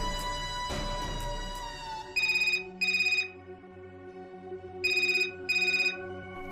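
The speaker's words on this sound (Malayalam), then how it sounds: "ആ ഫോൺ എടുക്കൂ." A telephone rings in two double bursts of electronic trilling, following a brief stretch of music-like tones at the start.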